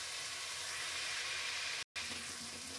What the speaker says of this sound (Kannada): ಶುಂಠಿ ಬೆಳ್ಳುಳ್ಳಿ ಸ್ವಲ್ಪ ಹಾಕಿದ್ದೀನಿ. ಸ್ವಲ್ಪ ಹಸಿ ವಾಸನೆ ಹೋಗೋವರೆಗೂ ಫ್ರೈ ಮಾಡೋಣ.